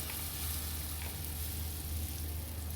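Beetroot pudla batter sizzling in hot oil on a pan, a continuous, even, close frying hiss with no pauses.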